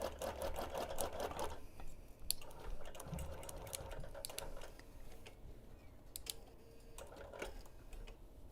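A sewing machine quilts fabric layers under a hopper foot in quick stitching bursts, with rapid ticking and short pauses between runs, fairly faint.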